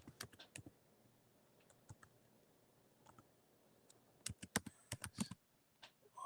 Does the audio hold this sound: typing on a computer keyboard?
yes